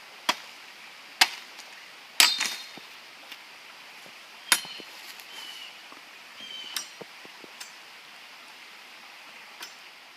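A knife strikes a long, fairly straight wooden stick to clear branches and imperfections, producing sharp, close chopping knocks at irregular intervals, a few louder blows among fainter taps, with no speech.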